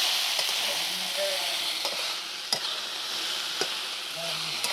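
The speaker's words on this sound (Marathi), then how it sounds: "आता भेंडी चांगली मी परतून घेतली त्याच्यात मीठ टाकून घेते" Sliced okra fries with salt in a pan, a steady close sizzle running throughout with faint scraping as it is stirred, no talking.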